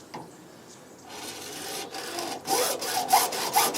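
A hand saw rasps through PVC pipe during a DIY tarp-cover build, starting with light strokes and then settling into loud, steady back-and-forth cutting close by.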